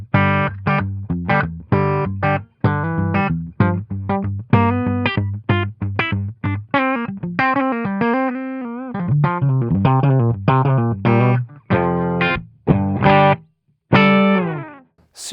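An electric guitar through a Jared James Nichols signature Blackstar amp head and cabinet on the clean channel plays a riff of punchy, choppy stabs and sustained chords with quick gaps, close and up-front, with no talking.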